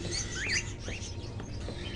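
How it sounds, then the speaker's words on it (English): Crows kept in cages in Indigo Prophecy, a few thin squawking calls over a dim ambient background, fairly quiet and brief. "Are those crows in the cages?"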